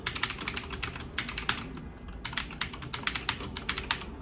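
Rapid, clacky keystrokes on a loud mechanical keyboard, close and crisp, in two bursts separated by a brief pause.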